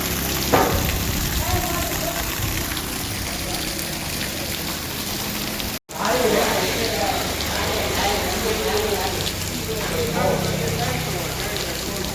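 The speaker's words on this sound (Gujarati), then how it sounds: "તો વરસાદ જુઓ તમે" Steady rain patters on a surface in a dense, even hiss, with people talking faintly over it and a brief dropout midway.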